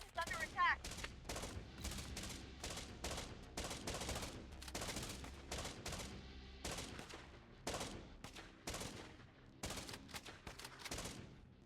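A defensive tower in a zombie survival strategy game firing at attackers, with rapid bursts of gunfire in repeated volleys, some faint speech mixed in.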